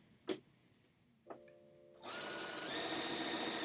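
A sewing machine sits close by while an inside-out bag is sewn. After two quiet clicks, the motor starts and hums steadily as it stitches for the rest of the clip.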